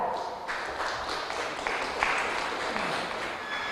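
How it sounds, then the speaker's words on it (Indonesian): A crowd claps and cheers in a steady wash of applause at a provincial Qur'an quiz competition, fairly faint, with a busy hall murmuring underneath. "Berikan tepuk tangan yang meriah untuk seluruh pendukung kita."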